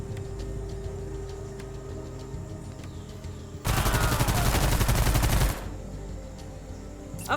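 Sustained burst of SMG fire in the Stargate: Timekeepers video game, a dense rapid rattle lasting about two seconds that rises loudly over a quieter ambient game background, then cuts off.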